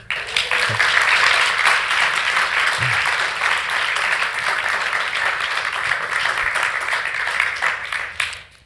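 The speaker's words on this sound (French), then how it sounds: "On peut les applaudir." An audience at a Sunday church talk show applauds Pascal and André in a steady, loud wash of clapping that lasts several seconds before fading out.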